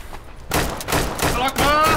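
Gunfire in the online survival shooter Deadside, an abrupt burst of shots after a quiet start, followed by loud crackling and ringing echoes over two seconds, with a voice talking over it.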